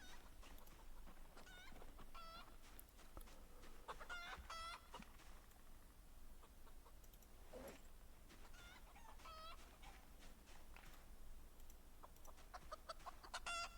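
Chickens in the Project Zomboid video game cluck and squawk in scattered bursts over a low hum, fairly faint, with short sharp calls recurring throughout.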